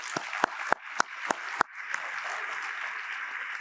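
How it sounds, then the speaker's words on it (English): Conference audience at an AMO municipal gathering breaks into applause: a few sharp, separate claps at first, then a steady, dense round of clapping filling the hall at moderate loudness. "I want to thank you with a round of applause as well."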